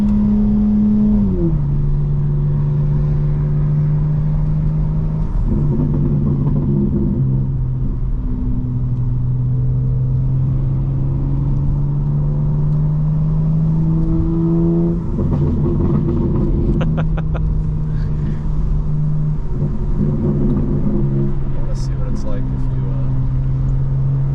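A 2024 BMW M4 Competition drones steadily while driving, with its intake and exhaust rising through several rev climbs and gear changes under a constant rumble, and people talk inside the cabin.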